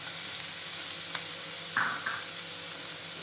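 Chopped medium onion sautés in oil in a pan, a steady soft sizzle with a brief stir of a spoon partway through, close and alone.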